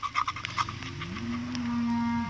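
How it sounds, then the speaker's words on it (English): Cows on a neighbouring farm, heard outdoors: a single long, droning moo rises and holds, fairly clear but a little distant, after a few soft clatters. "If you can hear that noise, guys, and you don't know what that is, they're cows."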